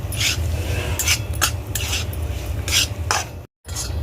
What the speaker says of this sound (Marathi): तर रवा छान असा भाजून घ्यायचा तुपात